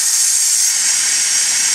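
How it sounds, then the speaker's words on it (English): Steam hisses in a steady, loud, unbroken jet from the release valve of a Cuisinart pressure cooker after cooking potatoes, bright and close with no voices. "We're going to let the steam out with the valve."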